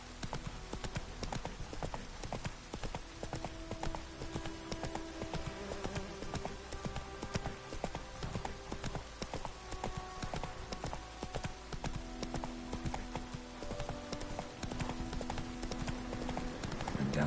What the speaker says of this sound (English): Is that Casimir's horse?